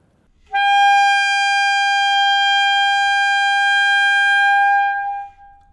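A saxophone holds one strong, steady high E for about five seconds, loud and close with a clean attack and a smooth tail-off, alone without talking.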